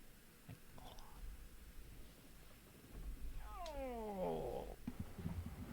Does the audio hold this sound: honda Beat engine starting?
no